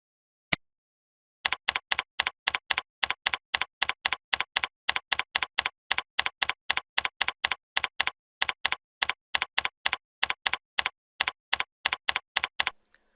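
Keystrokes rattle on a computer keyboard as a description is entered into a field, coming in a fast, continuous run of crisp clicks after a single opening tap, close and clear with no speech.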